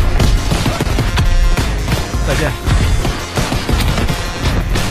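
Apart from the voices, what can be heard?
gunfire in video game Call of Duty WWII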